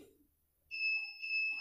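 A custom alarm fitted to a Suzuki Satria FU motorcycle gives a close, piercing electronic beep that starts after a short quiet gap and holds as a steady tone with brief added chirps.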